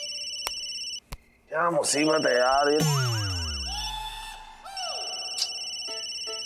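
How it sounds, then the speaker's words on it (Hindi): A phone rings late at night, with bright, repeating electronic tones at the start and again near the end, between bursts of close, loud, frustrated speech and a falling, swooping effect. "अरे यार कौन फोन कर रहा है इतनी रात को?"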